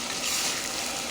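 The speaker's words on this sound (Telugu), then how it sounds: "అందులో అల్లం వెల్లుల్లిపాయ పేస్ట్ కూడా వేసేస్తున్నానండి. అది కూడా చక్కగా వేయించేసుకున్నాం." Ginger garlic paste frying in a pan while making Telugu-style mutton head curry, a steady dense sizzle at close range with no talking.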